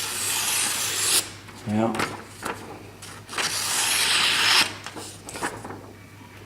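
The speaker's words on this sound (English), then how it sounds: "It does sound a little bit coarser than with the Japanese knife, but the cut itself is really smooth." Knife blade drawn through material in long, coarse rasping strokes with brief pauses, close and fairly loud, with a short spoken word between strokes.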